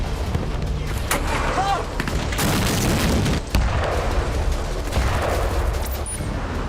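Air strikes in Gaza produce heavy, continuous rumbling blasts and booms, a dense roar with sharper cracks rising above it, loud and sustained throughout.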